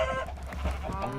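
Farm chickens cluck and murmur close by, a brief busy patch of overlapping calls from a flock crowding toward the cows.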